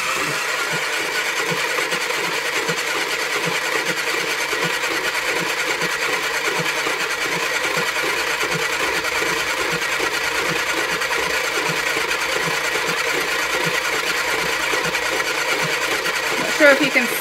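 Spin art machine spinning a t-shirt on its fast setting, giving off a steady mechanical whir and rattle that runs unbroken and fairly loud throughout.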